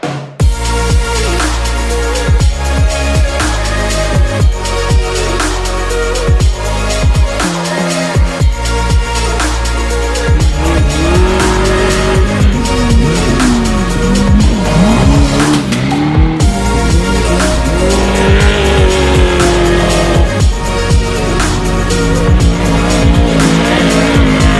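Geiser-chassis trophy truck with a 562 cubic inch big-block V8 making over 1,000 horsepower, racing in Baja testing: loud, continuous engine roar with revving, shifts and tire squeal, up close throughout.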